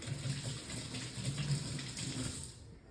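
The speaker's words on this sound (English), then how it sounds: "Let me wash my hands." Tap water streams steadily into a kitchen sink while hands are washed under it, making a continuous close rushing hiss with faint splashing that eases off near the end.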